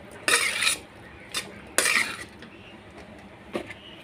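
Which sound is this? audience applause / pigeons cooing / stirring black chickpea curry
stirring black chickpea curry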